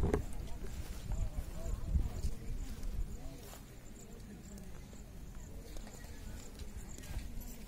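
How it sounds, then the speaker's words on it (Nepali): Horse hooves clip-clop steadily at the Sun Temple, a faint uneven patter of footfalls under outdoor background noise and distant voices. "घोडामा चढेको"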